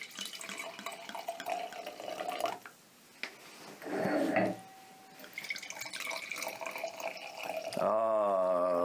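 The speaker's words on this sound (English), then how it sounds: "The sound of wine being poured." Wine pours into a glass in a steady, gurgling liquid stream with a rising tone as the glass fills, broken by a short pause and a brief second pour, close and fairly loud.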